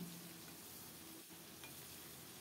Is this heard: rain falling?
no